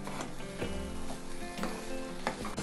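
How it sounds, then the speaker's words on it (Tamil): Carrot halwa cooks with ghee in a pan, giving a soft continuous sizzle under repeated scraping strokes of a spoon stirring the thick mixture, with no speech. "இன்னும் நல்லா கெட்டியாகிற வரைக்கும் கிளறி விட்டுட்டே இருக்கணும்."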